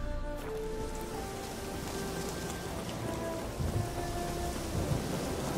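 Steady rain with rolling thunder from a storm in the video game The Witcher 3: Hearts of Stone, a continuous dense downpour with low rumbles swelling near the end, no voices.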